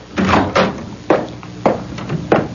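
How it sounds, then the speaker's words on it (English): Door being opened in an indoor scene, heard as a series of five or six close wooden knocks and thumps with latch-like clatter, spaced irregularly over a steady low room hum. "Open the door, Menashe."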